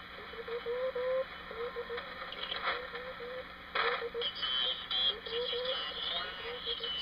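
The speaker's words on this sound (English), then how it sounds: "Very broad, you can hear lots of interference coming in on the side from sideband stations" A Wireless Set No. 19 military radio receiver hisses with static, while warbling tones and crackling bursts of sideband interference bleed in, intermittent and uneven.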